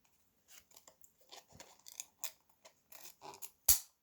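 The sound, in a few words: jagged scissors cutting a mask insert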